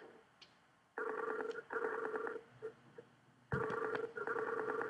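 A phone call rings out through a handset in repeated electronic ringback bursts, a buzzy tonal pattern with brief gaps, moderately close and without talking.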